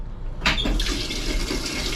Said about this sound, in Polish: Także w końcu udało się zatankować wodę.